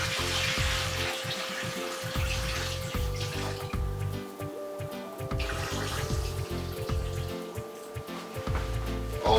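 Rice is washed in water at a sink, a steady running-water rush with sloshing and splashing that carries on throughout, close by and with no talking.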